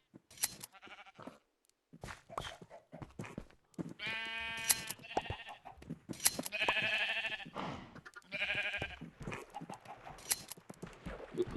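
Several sheep in a video game bleat repeatedly, with overlapping, wavering calls close by and short clicks and pauses between them.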